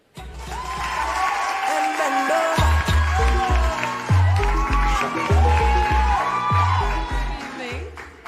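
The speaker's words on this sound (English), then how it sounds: "Ladies and gentlemen, a round of applause for our next contestant, Eppie." A studio audience at a TV talent show applauds and cheers for a contestant, clapping and whoops sitting under a bright, stepping music sting that plays loudly throughout.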